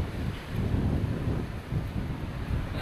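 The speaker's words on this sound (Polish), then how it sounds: "niech pan wiatr wyłączy, bo mocno wieje." Strong wind buffets the microphone during a bikepacking trip in Masuria, Poland, in a steady, loud low rumble with gusty swells, and no voices are heard.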